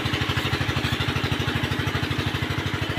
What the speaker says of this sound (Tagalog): Maingay ang motor.